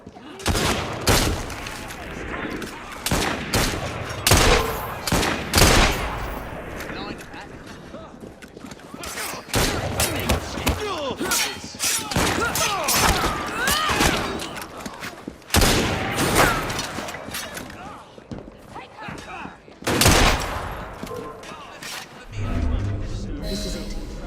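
Gunfire from the video game Assassin's Creed Syndicate, repeated sharp bursts and volleys of shots with booming impacts, loud and close, mixed with game sound effects and voices.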